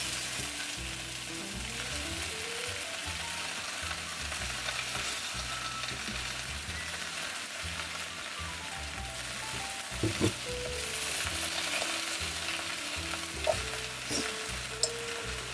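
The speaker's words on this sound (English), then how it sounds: "So here is the potato that sizzled for about 1 minute." Potato sizzles steadily in oil in a cooking pot during preparation of adas polo, a continuous close frying hiss with a few brief crackles and no talking.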